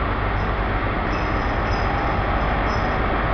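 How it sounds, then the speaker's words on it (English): Loud, steady rumble of trains at a station in Plymouth with faint high wheel squeals, continuous and close with no talking. "these two trains will both be probably departing at the same time"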